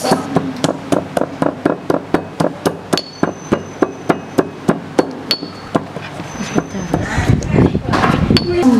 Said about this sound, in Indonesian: Kita gerus ya guys. kita gerus. Sampai halus.